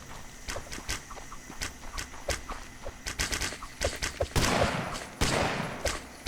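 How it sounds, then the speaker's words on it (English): Hand cannons fire in the video game Colony Survival, a quick irregular volley of sharp cracks that sometimes come in bursts, sounding fairly close over a quiet background. "Our hand cannons are hand cannoning."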